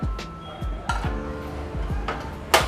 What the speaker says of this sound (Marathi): मसाला करण्यासाठी पुन्हा कढई ठेवूया गॅसवर